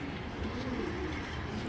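A large racing pigeon, sitting on eggs, gives soft low cooing close by, muffled against a steady noisy background.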